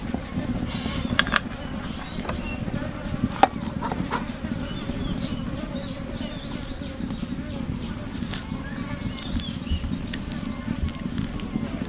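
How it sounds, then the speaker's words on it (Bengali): Crab brain chops sizzle steadily in hot oil, a dense crackling fry with scattered sharp pops running throughout at moderate loudness. "এখন আমি বাকি বড়াগুলো ভেজে নেব।"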